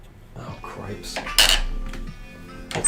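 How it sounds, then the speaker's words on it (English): Loud metallic clinking and creaking from a handle being tightened, a few sharp clanks with a louder burst midway and another at the end, close by with no talk. "That's the sound of me tightening my handle."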